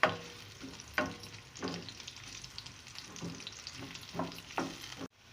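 Onion and white cumin seeds fry in oil in a pan, a soft steady sizzle punctuated by regular spatula scrapes about once a second, close but quiet, ending abruptly.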